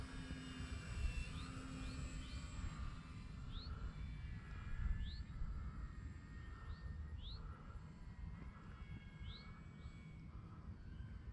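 A radio-controlled Cessna 182 model airplane drones steadily overhead on its landing approach over a grass field, a faint continuous engine whine heard from a distance under outdoor background noise.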